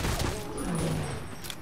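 Gunfire in Fallout: New Vegas: a fairly quiet spray of rapid shots and impacts over a constant rumbling game backdrop, with faint voices in the mix.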